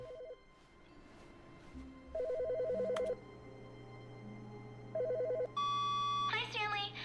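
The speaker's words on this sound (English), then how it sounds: "I hear a phone." A telephone rings in The Stanley Parable Ultra Deluxe video game, two clear electronic ring bursts with a pause between, over a low steady game hum and faint music.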